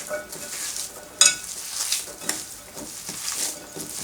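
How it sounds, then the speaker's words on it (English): Mashed potato and chopped onion squeezed and mixed by hand in a bowl, soft squelching and sticky squishing in uneven bursts, close up with a sharper knock near the start, no voices. "Just squeeze it through your fingers, get a good mix on it."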